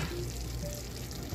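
Taco-seasoned ground beef sizzles in a frying pan as it is stirred, giving a brief, moderately quiet crackle with a faint stirring scrape and no speech.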